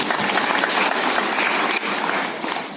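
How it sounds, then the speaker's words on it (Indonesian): A political campaign rally audience gives a loud, dense round of applause that continues steadily throughout, with no voices standing out. "Tepuk tangan lagi."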